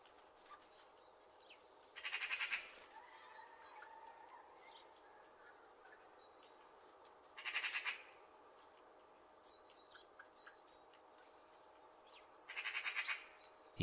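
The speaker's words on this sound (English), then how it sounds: "Let's hear what a magpie sounds like." Magpie calls come in three harsh, rattling chatter bursts spaced several seconds apart, moderately distant, with fainter chirps and squawks between them against a quiet outdoor background.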